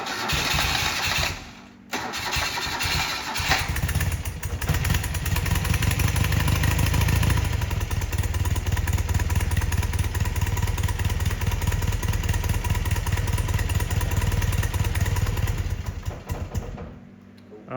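A two-cylinder BMW motorcycle engine with twin carburetors cranks and catches, then settles into a loud, steady, slightly uneven idle close by, and stops near the end.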